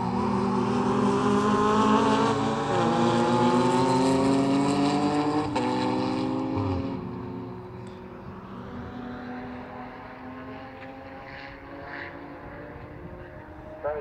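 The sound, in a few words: race cars at 750 Motor Club enduro, Ginetta G50, Aston Martin V8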